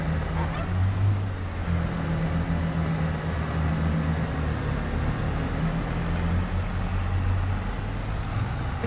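In Farming Simulator 22, a tractor engine drones steadily while shifting a trailer, a constant mid-loud rumble lasting throughout.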